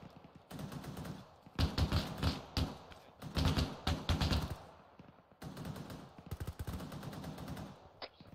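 Gunfire in a military video game: bursts of rapid automatic fire and single shots, loud and close, coming in clusters with brief pauses between.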